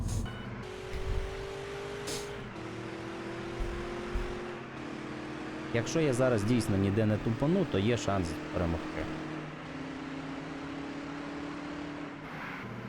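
A Porsche Taycan driven in a video game, its electric motor giving a steady rising whine with revving warbles midway, under continuous talking from a man.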